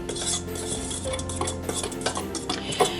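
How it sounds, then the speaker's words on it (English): Dry flour and salt stirred together in a mixing bowl for molasses cookie dough, a utensil scraping and clinking against the bowl in steady, close, moderately loud strokes with no talking. "I'm going to add my flour and salt and just kind of mix this around good, incorporate it"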